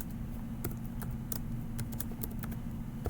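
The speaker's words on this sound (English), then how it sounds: "I'm going to type line 28." Fingers type on a computer keyboard in faint, irregular clicks scattered over a low steady background hum.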